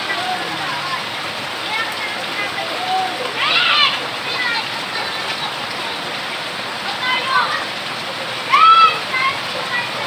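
Typhoon Ompong's heavy rain pours in a dense, steady hiss, with a few louder splashing bursts now and then, while voices are faintly heard in the background.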